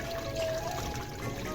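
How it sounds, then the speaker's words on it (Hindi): Rainwater poured out of a tub on a rooftop, a steady splashing and trickling stream that runs close and continuous for a second and a half with no voices over it. "तो इस पानी को गिरा देती हूँ मैं थोड़ा"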